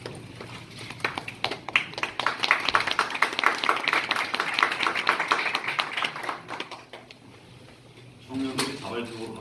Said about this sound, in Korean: 청년들이 자발적으로 박수 치는 건 처음 봤습니다.